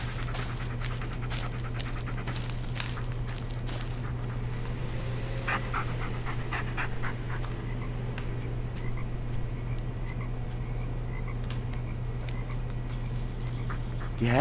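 Bullet the dog pants steadily in Blair Witch, a rapid, breathy rhythm over a constant low hum. The sound is close and keeps going the whole time with no talk.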